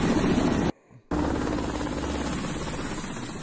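A Russian Ka-52 attack helicopter over Crimea, its steady rotor and engine drone loud and close, cut off for a moment by a short silent gap before the noise resumes.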